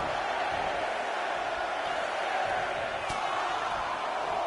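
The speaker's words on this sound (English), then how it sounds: "Listen to this crowd count the next one in." Dense, loud crowd noise roars steadily throughout in a wrestling video game on PS5, a sustained wall of cheering with one brief sharp thud partway through.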